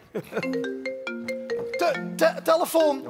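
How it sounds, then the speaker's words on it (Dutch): A phone ringtone plays a bright, repeating melodic chime several times in a quick pattern during a Dutch stage show, with voices and laughter overlapping its later notes. "Telefoon."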